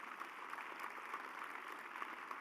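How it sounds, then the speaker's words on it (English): A distant, faint round of applause for hackathon participants at a closing ceremony, a steady wash of many hands clapping that holds evenly throughout. "we all deserve a big, big round of applause for all the participants"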